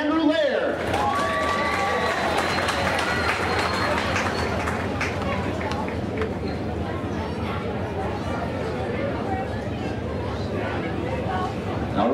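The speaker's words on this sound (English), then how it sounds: "a big round of applause for Andrew Lair" Crowd applause and cheering at Brown County Speedway, a dense, steady roar of clapping and chatter that holds loudly for the whole stretch.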